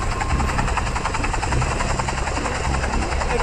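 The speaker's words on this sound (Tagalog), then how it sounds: "Helicopter." Helicopter in the Godzilla Strike Zone mobile game, a steady loud rotor thrum with rhythmic chopping pulses that runs unbroken and close throughout.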